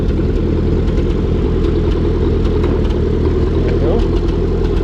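A 1951 Ford 8N tractor engine running in gear, a loud, steady low rumbling drone close by with someone talking over it.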